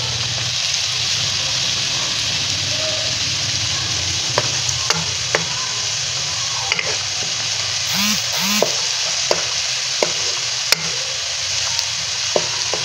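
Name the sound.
onions frying with ginger garlic paste in a pan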